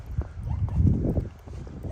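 A young stallion's hooves clop unevenly on the ground nearby, with faint rustling and a low background rumble.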